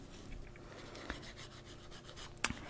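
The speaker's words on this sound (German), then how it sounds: "im nächsten Schritt feile ich nur den Naturnagel mit der 180 Grit Feile an" A 180 grit nail file rasps across a natural fingernail in soft, repeated strokes, close and quiet, with a couple of sharper scratches near the end.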